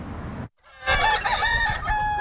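Roosters and hens seized in a cockfighting bust, more than a hundred birds held together; loud, overlapping crowing fills the clip after a brief silent gap, with several birds calling at once close by.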